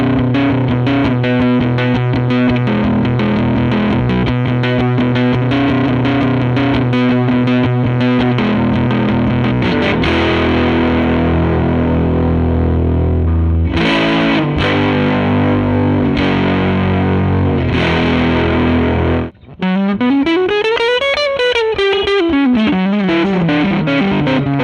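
Portastudio-style guitar effects pedal played with electric guitar, thick distorted chords and sustained notes giving way to sweeping modulated tones and a pitch-bending swell near the end, loud and continuous with one brief cutout.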